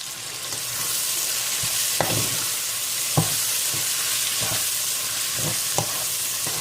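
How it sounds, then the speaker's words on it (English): A steady sizzle comes from a pan of sautéed mung beans with pork bacon, with occasional spoon taps and scrapes while it is stirred, close and alone without talk. "we're going to give this one a good mix"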